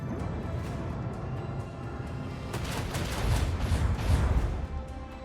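Gunfire and booming impacts in the video game Warhammer 40,000: Rogue Trader, a rumbling barrage of shots and blasts that builds louder toward the end, with no talk over it.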